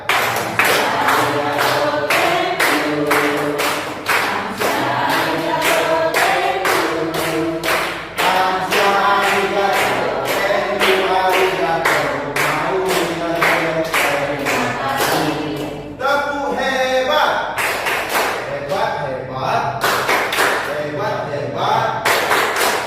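An indoor audience of adults claps in a dense, rhythmic pattern of sharp, close hand claps for a sustained stretch, with voices chanting and talking through it.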